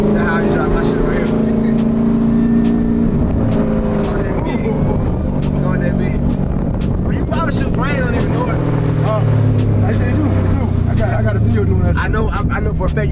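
A Dodge Durango Trackhawk engine roars steadily and loudly from inside the cabin while driving, a dense continuous rumble that lasts throughout, with excited talk over it.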